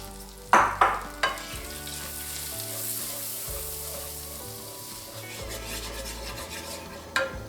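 Butter and flour sizzle in a pan as a roux is stirred, with a few loud utensil knocks and scrapes at the start and end over a continuous bright frying hiss; close and fairly loud, no talking.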